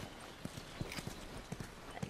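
Horse hooves in The Last of Us clip-clop at an unhurried walking pace, a series of distinct, moderately close knocks, with low background ambience and no talking over them.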